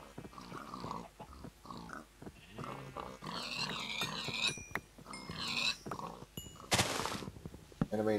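Minecraft pigs grunt and oink in a cluster of short, close snorts, with a sharp burst of noise near the end.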